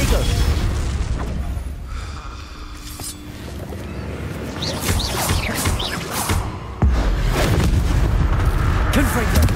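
Confringo explosive spell blasts in Hogwarts Legacy, several loud booming bursts cutting through busy combat noise, with a voice calling out briefly among them.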